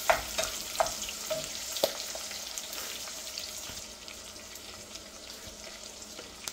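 Onions with ginger garlic paste fry in a pan for a vegetable biryani, a steady broadband sizzle with a few sharp utensil clicks early on, gradually settling quieter, no voices.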